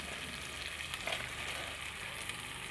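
Steady, dense sizzle of food frying in a pan with fresh mint leaves, a continuous hiss filling the whole stretch at an even level with no voices.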